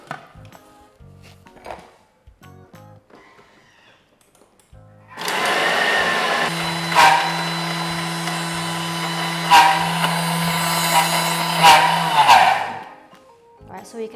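A Thermomix kneads peanut butter swirl bread dough: after a quiet stretch the motor starts into a loud, steady whirring drone with a few heavier knocks, runs for several seconds, then cuts off.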